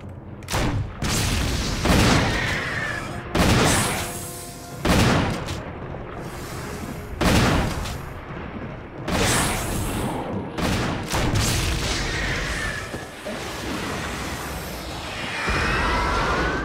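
Repeated gunfire at a boss in the video game Resident Evil HD, with loud shots or short bursts roughly every one to two seconds and brief pauses between them, over game ambience.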